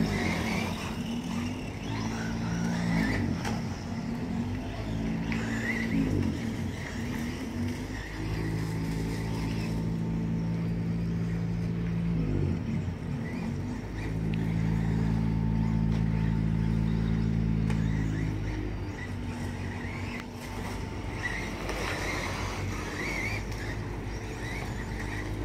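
An RC car fitted with an Optima Mid LWB 48P gearset runs on a track, its whining motor rising and falling as it accelerates and slows, with steady background rumble throughout.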